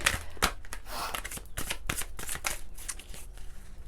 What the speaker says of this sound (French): On va prendre une carte de l'oracle de lumière, les cartes lumière, pardon.